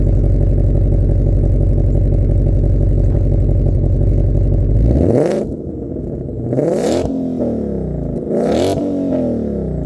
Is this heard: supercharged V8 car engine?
yes